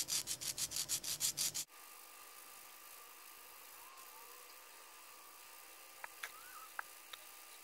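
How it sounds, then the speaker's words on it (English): Sandpaper rubbed against hardened epoxy clay on a custom figure, a close, loud run of about eight rhythmic scrubbing strokes that stops abruptly, leaving quiet background hiss with a few faint clicks. "I'm going to take some sandpaper and smooth out the roughness in the clay surface."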